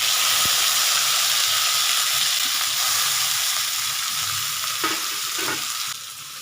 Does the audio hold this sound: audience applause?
no